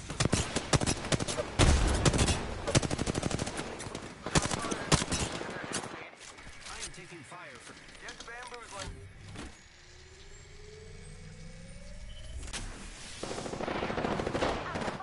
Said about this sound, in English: Watch, they're shooting at me now.